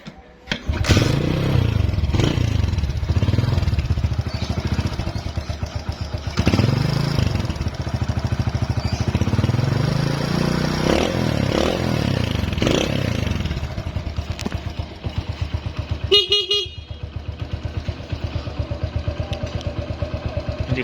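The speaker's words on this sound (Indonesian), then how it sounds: "Kita coba engkol." An old Honda Win 100 motorcycle is kick-started and its engine runs steadily and loudly close by, with a brief clattering burst partway through before it settles into an even idle.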